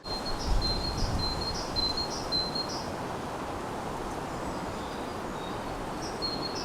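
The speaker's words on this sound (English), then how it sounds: "I can hear, yeah, that's the great tits, goldfinch, parakeets." Great tits, goldfinches and parakeets singing at Crossness Nature Reserve, a few short high chirps repeating in a quick series, then a pause and another burst, faint against a soft outdoor hiss.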